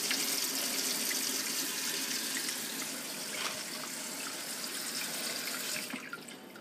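Tap water runs steadily into a sink as a big potato is rinsed under it, a continuous close splashing hiss that cuts off abruptly near the end.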